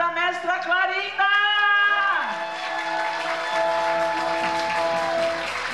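An audience applauds at a tribute to Mestra Clarinda during the 4th Encontro de Tradições. Strong voices call out and cheer over a steady wash of clapping that fills the whole stretch.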